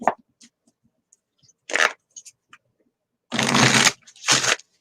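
Lemurian oracle cards being shuffled by hand in several separate bursts, a couple of brief riffles followed by two longer, louder crisp shuffles, close up with no talking.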